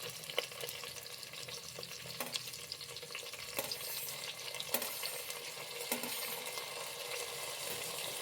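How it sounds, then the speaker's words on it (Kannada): Tomatoes frying in a pan with curry leaves and dried red chillies for bisi bele bath, a steady close sizzle broken by a few sharp clinks of a spoon stirring against the pan, with no voices. "ಟೊಮೊಟೊ ಎಲ್ಲ ಚೆನ್ನಾಗಿ ಸ್ಮ್ಯಾಶ್ ಆಗೋವರೆಗೂ ಫ್ರೈ ಮಾಡಿ."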